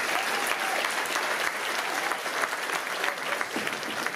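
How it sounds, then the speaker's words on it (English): A crowd applauds an honoree at a community arts celebration, steady dense clapping held at an even level throughout with no break. "let's give her one more round of applause"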